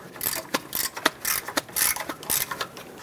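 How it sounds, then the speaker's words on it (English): A ratchet tightens the air bag spring mounting nuts on a 1999-2007 Ford F-350, giving a close, rapid series of clicking bursts in uneven strokes, with no talking. "now let's tighten up these mounting nuts"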